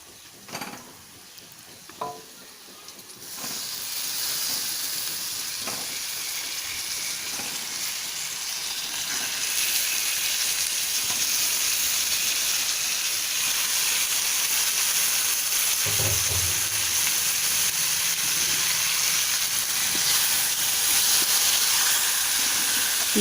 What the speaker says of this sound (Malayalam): അപ്പം ഞാനിതിലേക്ക് ചിക്കൻ ഇട്ട് കൊടുക്കുകയാണ്.